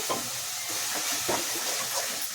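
Tomatoes cook over high flame in a pan for egg sambar, giving a steady close sizzle and hiss with faint stirring scrapes underneath.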